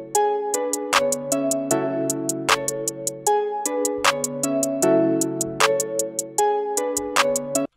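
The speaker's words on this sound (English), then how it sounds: "Next I'm gonna add the hi-hats." Hi-hats programmed into a trap beat in FL Studio, regular bright ticks over a looping melodic synth pattern with steady low notes, with no voice.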